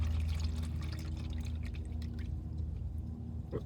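CVT fluid squirts and pours out of the drain hole of a 2019 Honda Accord during a fluid change, a steady liquid splatter and trickle over a low background hum.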